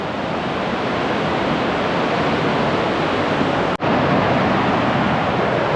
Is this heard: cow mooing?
no